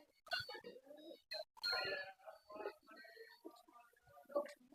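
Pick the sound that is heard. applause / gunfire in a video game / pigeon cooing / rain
pigeon cooing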